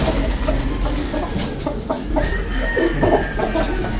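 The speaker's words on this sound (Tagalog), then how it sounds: "Puro manok dito." Several chickens cluck and murmur continuously nearby on a farm, with a faint crow in the background and a steady low hum underneath.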